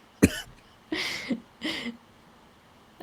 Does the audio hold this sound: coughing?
yes